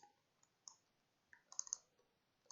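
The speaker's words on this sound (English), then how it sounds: "I'm just holding shift and double clicking stuff." A computer mouse clicks in scattered bursts, including quick double clicks, faint and close in an otherwise quiet room.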